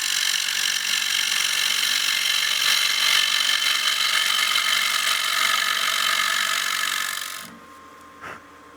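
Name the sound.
wood lathe turning a bowl with Easy Wood Tools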